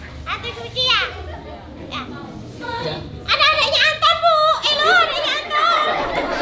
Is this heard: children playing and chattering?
yes